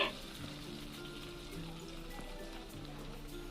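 Fresh coriander drops into hot oil and sizzles with a steady, close hiss and a faint crackle throughout, next to a soft background hum.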